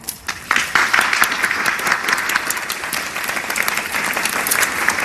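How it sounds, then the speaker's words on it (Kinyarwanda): An audience applauding at a formal event hosted by an ambassador, a loud, dense burst of clapping that starts abruptly and carries on steadily, close and continuous. "abantu bakumye amashyi"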